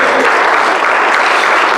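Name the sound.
congregation applauding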